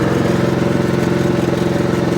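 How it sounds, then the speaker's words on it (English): A lawn mower engine idles steadily at close range, a loud, even chugging rumble with a fast regular pulse and no talking. "need this particular lawnmower"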